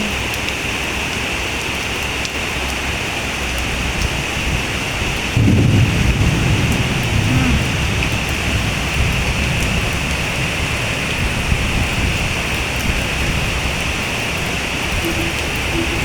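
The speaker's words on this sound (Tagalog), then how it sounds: "Diyos mio, ang lakas ng ulan." Heavy rain pours in Malaysia during a thunderstorm, a loud, dense, constant roar, and a deep rumble of thunder swells partway through. No voices are heard.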